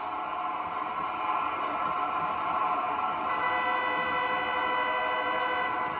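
Train horn sounding as one long sustained chord-like blast, steady and fairly loud, with faint rail noise beneath.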